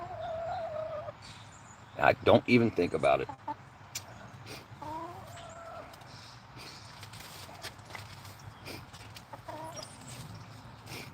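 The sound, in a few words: chicken clucking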